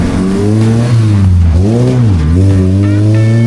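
Car fitted with a swapped 4G63 Evo engine revving loudly up close, its pitch climbing, dipping sharply and climbing again in a couple of throttle blips before settling into a steady, high idle.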